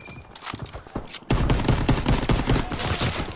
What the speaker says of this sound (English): we were shot in the back.